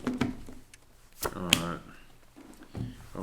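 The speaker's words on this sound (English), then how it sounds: "Get 2 more shuffles." Tarot cards shuffled in bursts of riffling and flicking, close and fairly quiet, with a voice talking intermittently around them.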